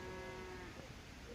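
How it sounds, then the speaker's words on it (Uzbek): A cow on a farm gives a single short, low moo, faint and brief against a quiet background. "Mana sigirimiz."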